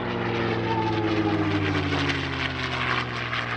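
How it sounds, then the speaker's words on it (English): A P-51D Mustang propeller fighter flies past at an airshow, its piston engine giving a steady, loud droning roar with a slowly shifting pitch throughout. "P-51D Mustang The Shark"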